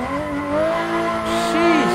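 A custom MK3 Supra drifts along a narrow mountain touge road in the Assetto Corsa racing game, its tires squealing steadily while the engine note rises and falls, loud and close throughout.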